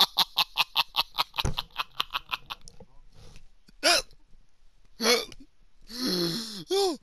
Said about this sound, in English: Yeah, fuck's sake, hiccups.